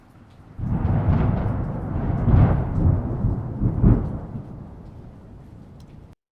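Deep, heavy thunder rumbles and rolls on for several seconds with a few louder swells, then fades away, with little background noise left after noise cleanup processing.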